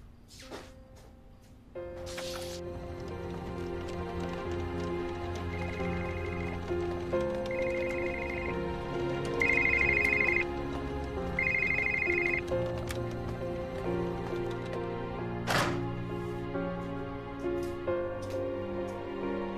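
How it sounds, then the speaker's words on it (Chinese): A telephone rings during an outgoing call, with repeated electronic ringback tones in bursts over a soft, sustained musical bed and a few sharp clicks. "我来打个电话"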